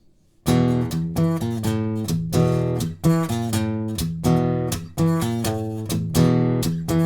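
Electric guitar plays the palm-muted intro riff of a song: tight chugging muted notes alternate with ringing picked notes in a steady repeating pattern, close and unaccompanied.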